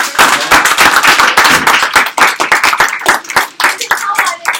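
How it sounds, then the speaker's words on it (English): Close, loud hand clapping from a small workshop audience for presenters, individual claps crisp and distinct, ragged and uneven in rhythm throughout. "applause for our awesome speakers."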